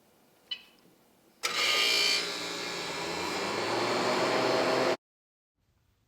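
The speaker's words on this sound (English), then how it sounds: "The freeze dryer has to go through a cooling period where the chamber has to cool for 15 minutes." A freeze dryer starts up for its chamber cooling cycle, a loud, steady broadband roar with mechanical hum that runs for several seconds before cutting off abruptly into silence.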